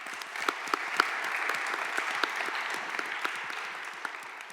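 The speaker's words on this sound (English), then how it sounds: "Please give a round of applause to our panelists." Steady applause from a conference audience thanking the panelists, with individual claps audible through a dense, even patter that holds at moderate level for several seconds.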